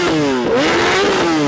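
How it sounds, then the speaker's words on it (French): A big, loud motorcycle revs hard close by, its engine note dipping and then climbing through a gritty, rising roar with no talking. "la grosse moto qui fait du bruit"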